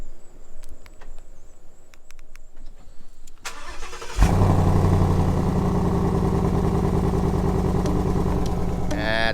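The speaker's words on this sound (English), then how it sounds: "let's do a cold start and wake up the neighbors." A 2011 Ford Crown Victoria cold-starts after a few seconds of quiet: a sharp crank and catch, then a loud, steady, rumbling idle that sounds like it needs a new exhaust and holds close and strong to the end.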